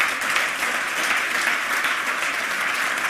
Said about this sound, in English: let's give the speaker another round of applause